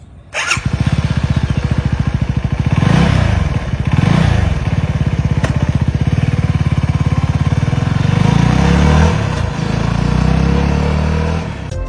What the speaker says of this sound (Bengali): এবং এই SR 250 এই বাইকটা আজকে আমি সারাদিন রাইড করব